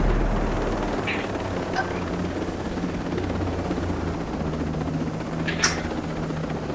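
A helicopter in Ghost Recon Breakpoint gives off a steady droning rotor hum across the whole stretch, with a couple of brief sharp bursts rising over it.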